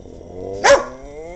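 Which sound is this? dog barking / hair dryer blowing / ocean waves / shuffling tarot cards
dog barking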